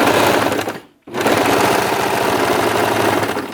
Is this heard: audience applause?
no